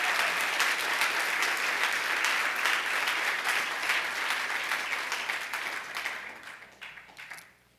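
A Spanish-speaking church congregation gives a strong round of applause during a sermon, the clapping loud and sustained before thinning out and fading over the last couple of seconds.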